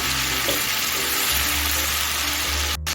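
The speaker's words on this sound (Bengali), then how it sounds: "গ্যাসটা লোতে রেখে আমি দু মিনিট পেঁয়াজটাকে একটু ভেজে নিচ্ছি" Onion paste frying in a pan over a low gas flame makes a dense, steady sizzle that fills the whole short stretch at close range.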